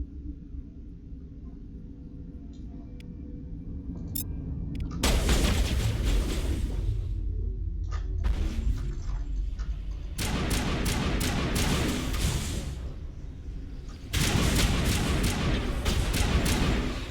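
Gunfire from the video game Mass Effect in a lab on Noveria, coming in loud, dense bursts of rapid shots separated by quieter stretches of low rumble, with a voice shouting briefly at the start.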